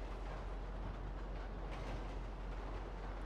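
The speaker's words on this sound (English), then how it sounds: "here we have the train" A train rolling through a tunnel in the GTA 5 video game, a dense, steady rumble and rattle of wheels and cars, constant and enveloping with no pauses.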